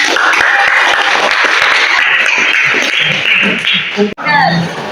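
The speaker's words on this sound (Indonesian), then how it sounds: "kasih aplaus untuk kelompok 2" A classroom audience applauds a student group after their presentation, with dense clapping throughout and voices mixed in before it fades and talking resumes.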